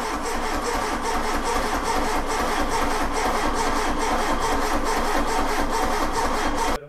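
A turbocharged Tofaş car engine runs loud and steady, revving continuously close by for about seven seconds, then cuts off abruptly at the end.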